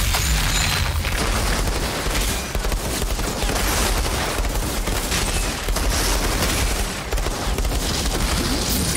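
Dense, continuous gunfire in the Outriders video game, a loud, rapid barrage of shots and booms that runs without pause for the whole stretch.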